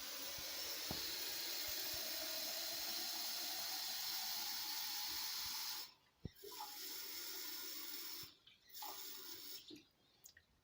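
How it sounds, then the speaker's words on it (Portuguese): Water pours steadily into a graduated measuring jug in a kitchen, a continuous close hissing splash for about six seconds, then a few short stop-and-start pours as the level is topped up to 640 ml for artificial bee feed. "primeira coisa que nós vamos fazer é medir os 640 ml de água em um prato graduado."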